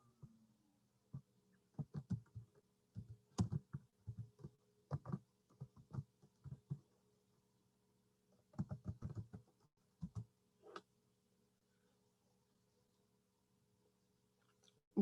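Password being typed on a computer keyboard in sporadic bursts of quiet, close key clicks, with pauses between runs and a faint steady hum underneath.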